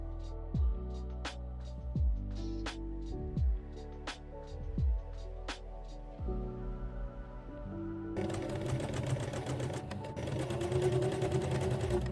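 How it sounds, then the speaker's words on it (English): A sewing machine top-stitches a folded sleeve hem enclosed in a band on a puff-sleeved dress. Its needle first thumps in short, clipped bursts, then settles into a denser, continuous whirring run near the end. "Top stitch the sleeve hem neatly after enclosing it with the band."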